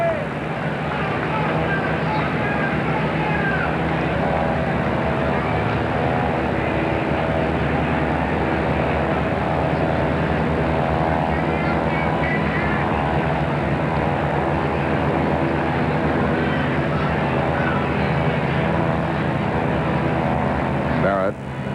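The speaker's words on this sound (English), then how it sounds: "I think the airplanes are bothering Marty just a little" Propeller airplanes drone overhead at a 1987 Toronto at Boston baseball game at Fenway, a steady broad engine roar filling the whole stretch beneath crowd noise and a commentator's talk.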